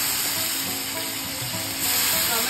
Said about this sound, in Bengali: এবার টমেটো দিয়ে দেবো তেলে।